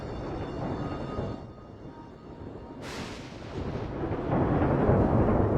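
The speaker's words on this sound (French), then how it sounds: "de violents orages ont éclaté au-dessus de cette région" Thunder from a violent storm, deep rumbling that swells, fades, then builds again with a sharper crack midway and a louder rolling roar at the end, with no voices.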